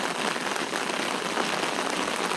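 Heavy rain pours down in downtown Loganville after a line of severe thunderstorms, a dense, even hiss of drops hitting surfaces with no voices.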